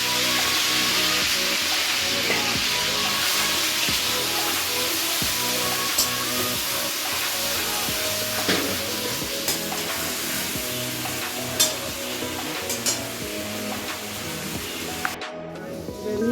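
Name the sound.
ginger, garlic, onion and chili frying in oil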